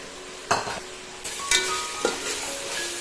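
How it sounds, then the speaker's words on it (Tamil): Mint and coriander leaves being sautéed in a pan for a raw jackfruit biryani, with three distinct stirring scrapes and clatters over a steady background sizzle, close by and with no talking. "சேர்த்துட்டு நல்லா வதக்கிடலாங்க."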